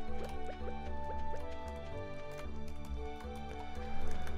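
Heavy watering can pouring water onto crops in the Stardew Valley video game, a busy run of small drips and splashes over steady game music, with no talking.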